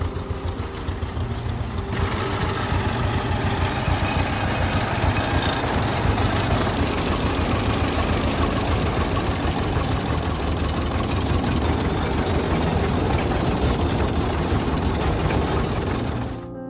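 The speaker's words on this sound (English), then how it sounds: "Engine speed stays low, only a few hundred revolutions per minute" A heavy old Rumely OilPull tractor oil engine chugs at a slow, steady idle of only a few hundred rpm, its deep rhythmic knocking continuous and loud throughout.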